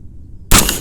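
An M&P-15 Sport rifle fires a single sharp, loud shot at a range after a brief quiet moment, the report ringing out briefly.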